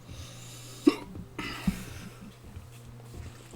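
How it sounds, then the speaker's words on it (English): Two short, sharp hiccups from a character in Hogwarts Legacy, roughly a second apart, over a low, steady background hum. "Getting the hiccups."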